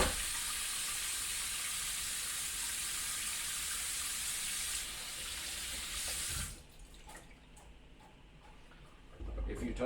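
Tap water runs steadily into a kitchen sink while hands are washed after handling peppers, a broad rushing stream for about six seconds before the flow is shut off, leaving quiet kitchen sounds and light ticks.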